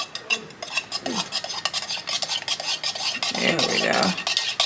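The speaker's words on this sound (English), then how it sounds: "So you always got to make sure you stir." Thick melted gel wax for a martini drink candle stirred in a container, a steady scraping, rasping rub with clinks of a utensil, close and moderately loud, with a brief spoken remark.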